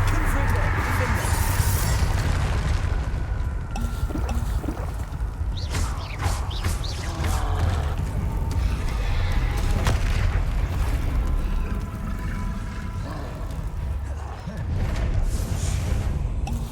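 Spell impacts and blasts from the Hogwarts Legacy video game rumble and crack almost nonstop in dense, layered bursts, with a voice calling out spell names over the combat.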